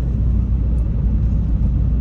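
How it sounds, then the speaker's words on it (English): Steady low rumble and airy hiss of a car heater blowing on low inside a moving car on a 40-degree day in Kosciusko, Mississippi, with road noise constant throughout. "So if you hear the ambience in the background, that's because there's air on. It's actually the heat."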